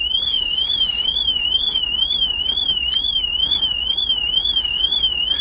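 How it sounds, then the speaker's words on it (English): A car alarm wails continuously with a steady up-and-down siren tone, loud and unbroken over faint background hiss, heard from inside a parked car. "The car alarm has been..."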